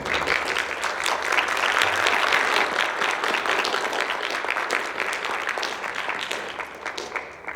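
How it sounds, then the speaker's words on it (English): Sustained applause from a large group at a school event, dense and steady clapping that slowly fades near the end. "Let's give the class a round of applause."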